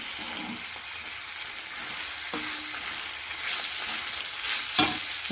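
Fenugreek leaves fry in hot oil with salt in a pan, a steady close sizzle running throughout with occasional scraping stir clicks and a sharper clatter near the end.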